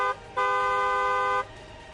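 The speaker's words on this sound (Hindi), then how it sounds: "दूसरों को भी सावधान करने के लिए हॉर्न बजाएं।" A vehicle horn gives two honks, a short one and then a longer steady blast of about a second, loud and close against quiet road background.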